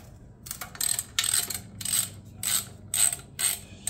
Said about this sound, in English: you will need a 6 millimeter to undo this bracket so the muffler can be taken out